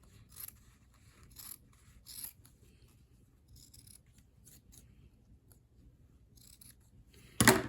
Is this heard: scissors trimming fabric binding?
yes